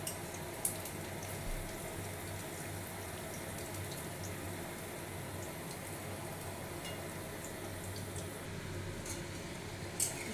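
Masala potato fry sizzling in a pan, a steady hissing crackle throughout with a couple of faint clinks as the pieces are flipped.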